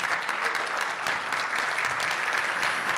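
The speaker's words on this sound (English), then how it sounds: "let's give him another big round of applause" An audience at a Rotary club meeting applauds steadily, a dense, even patter of many hands clapping that holds at moderate loudness throughout, with no talk over it.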